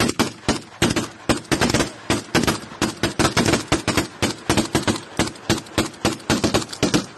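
Rapid, loud bursts of automatic gunfire crackle close by in combat on a hilltop, firing in dense, uneven strings of shots with barely a pause between them.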